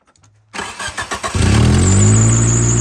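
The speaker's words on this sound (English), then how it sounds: "We'll let her idle for a bit, get the oil warm, so when we change the oil, it drains out." An old Geo Tracker engine cranks over with a few rhythmic starter turns, catches with a rise in level and settles into a steady close-up idle.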